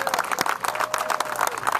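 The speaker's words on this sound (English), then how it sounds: "Give them a big round of applause." Outdoor crowd of volunteers at a community service day giving a brief round of applause, steady fairly quiet clapping from many hands.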